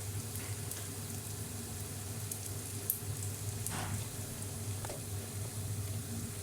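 Onions and bitter gourd frying in oil in a pan give a steady, even sizzle with soft crackling pops, heard close and alone without talk.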